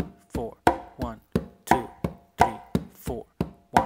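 Congas play a clave independence exercise, about a dozen evenly spaced slaps and tones ringing out crisply and close, some hits brighter and sharper than others, without any voice over them.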